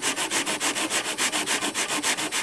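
A model rock is sanded flat on coarse 60 grit sandpaper, a brisk, even rhythm of rasping strokes heard up close with no other sounds.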